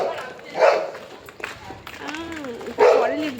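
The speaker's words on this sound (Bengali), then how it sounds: "পরে লিখতে হবে যে কুকুর ডাকছে।" A dog barks and yips a few times at close range, mixed in with people talking nearby.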